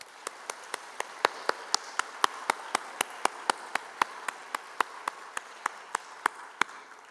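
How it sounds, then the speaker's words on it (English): Applause at the Shaping Portsmouth Conference 2025 welcome session comes as a slow, evenly spaced run of crisp, separate claps. They are moderately loud against a quiet room and keep a steady rhythm throughout. "join me just in a moment of thanks to give them a round of applause"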